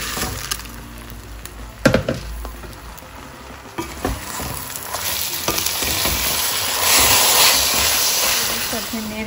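Rice stir-fried in a pot with bay leaf and cinnamon for beef tehari, heard as sharp clanks of a ladle against the pot followed by a rising, steady sizzling hiss that grows louder toward the end.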